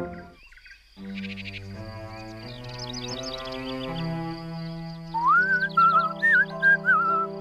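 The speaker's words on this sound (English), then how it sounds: "You always did whistle a good tune" A bright whistled tune rises over gentle cartoon background music, a lilting melody carried in short phrases in the last few seconds, fairly close and clear.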